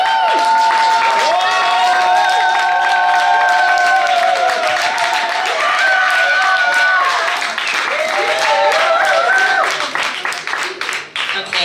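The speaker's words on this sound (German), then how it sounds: "Klatschen wir nochmal," A concert crowd applauds loudly at a live music night, a dense burst of clapping that thins out and fades near the end, with a voice talking over it.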